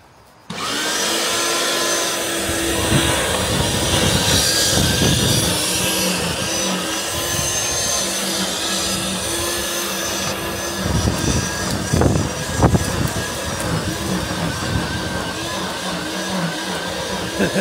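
Screwfix NMRS1500 electric lawn scarifier running steadily on a lawn, a loud continuous motor whine with raking rasp, close and unbroken for the whole stretch with no talk.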